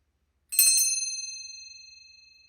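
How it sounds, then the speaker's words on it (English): A small bell struck once for spirit cleansing, a bright, close ding that rings out with a slow, shimmering decay over about two seconds in an otherwise silent room. "When I was doing that bell"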